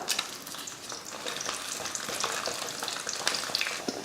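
Garlic and chillies frying in sesame oil in a kadai give a steady, bright crackling sizzle with scattered pops. The sound stays close and fairly loud throughout, with no talking.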